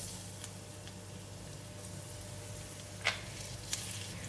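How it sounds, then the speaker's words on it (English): Garlic frying in about two tablespoons of hot cooking oil in a pan, a faint steady sizzle with a few soft clicks and small pops, no voices. "We just fry the garlic until it releases a nice fragrance"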